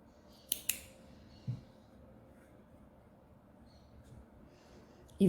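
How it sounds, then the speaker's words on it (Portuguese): Scissors snip brown yarn while crocheting an amigurumi, two quick sharp clicks close together, then a softer snip, with quiet room tone before a final louder handling noise at the end. "Aqui, eu já vou cortar essa linha marrom."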